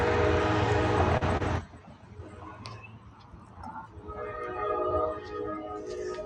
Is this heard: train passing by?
yes